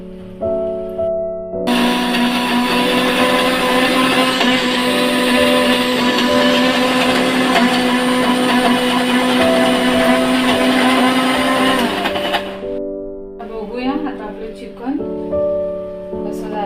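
A mixer grinder runs loud and steady for about ten seconds, grinding small coconut pieces with water for a village-style chicken curry, framed by quieter kitchen handling noises before it starts and after it stops.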